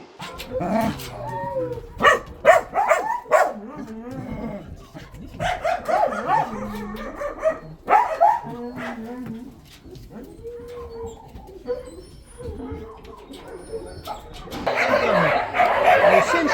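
Dogs bark in short bursts at a municipal animal shelter, mixed with cooing pigeons, voices and other animal noise, with a louder jumble of barking near the end.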